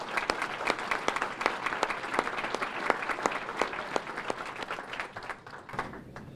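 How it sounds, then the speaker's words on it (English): A dinner audience at a country club chamber of commerce banquet claps together in a sustained round of applause, steady and full throughout before thinning slightly at the end. "I think applause would be in order."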